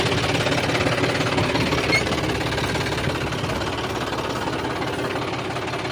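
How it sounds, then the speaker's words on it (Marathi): A tractor runs with a reversible plough as the hydraulics lift and automatically flip it over. A loud, steady, rattling engine drone fills the whole stretch with knocking vibration and no pauses. "त्याला हायड्रोलिक उचलल्यानंतर टापलिंगच्या साह्याने ऑटोमॅटिक पलटी होतो मित्रांनो"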